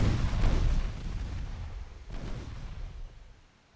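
Heavy battleship gunfire booms in a naval warfare game, two deep rumbling blasts a couple of seconds apart, each trailing off into a low roar.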